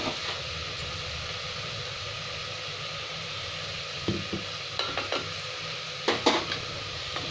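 Salt and turmeric fry in a pan for namkeen rice with a steady soft sizzling hiss, broken later by a few sharp metallic clinks and scrapes of a spoon against the pan.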